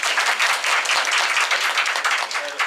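An audience at a Japanese parenting lecture claps to welcome the next speaker, a fairly loud, even patter of many hands continuing without pause.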